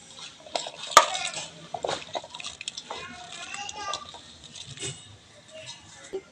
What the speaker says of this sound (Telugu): అలాగే వంకాయ ముక్కలు కూడా వేసుకుంటానండి.